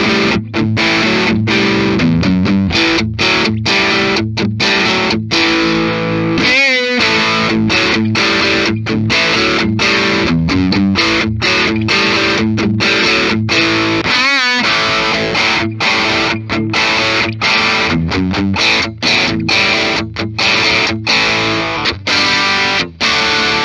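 A 2012 Gibson Nighthawk electric guitar plays heavily distorted chords and riffs, loud and continuous, with two brief pauses where the strings are muted.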